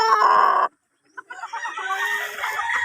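Fighting cocks for sale on a farm cluck and crow close by, a loud burst followed by a short pause, then steadier clucking and calls from several birds.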